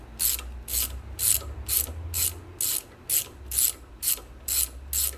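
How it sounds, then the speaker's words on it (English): A ratchet clicks in steady bursts, about ten evenly spaced strokes close by, while the top corner bolts come off an HP pump, with no talking. "remove the two top corner bolts"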